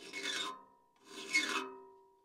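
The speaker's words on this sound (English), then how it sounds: "we have to file that gullet down a little deeper" Two slow, close rasping strokes of a hand file deepening the gullet of a cross cut saw, each a harsh scrape with a faint metallic ring trailing after it, heard alone.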